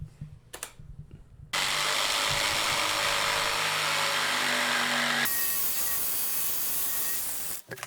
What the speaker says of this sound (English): now with the angles figured out, I just use my jigsaw and cut it out